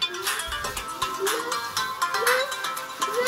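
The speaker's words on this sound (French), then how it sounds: "Je ne sais pas qui m'appelle, je suis en direct, ne m'appelez pas maintenant" A phone ringtone sounds during a live stream, a repeating electronic melody of rising tonal notes cycling steadily and fairly loud throughout, with no talk over it.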